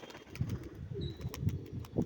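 Pigeons coo softly in repeated low, throaty murmurs, several birds overlapping close by, with faint chirps in the background.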